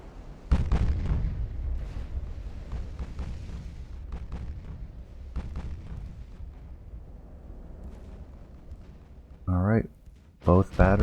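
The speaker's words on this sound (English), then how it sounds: "Both batteries firing." Battleship gun batteries fire in Ultimate Admiral: Dreadnoughts, heard as a series of deep, rumbling booms and rolling blasts. Sharper tonal effects come near the end.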